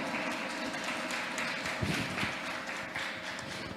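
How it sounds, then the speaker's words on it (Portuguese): A seminar audience at a nursing symposium claps for a speaker being introduced, a fairly quiet, steady patter of many hands with a few louder bursts, no talking over it. "Vamos aplaudir Marlon Marinho."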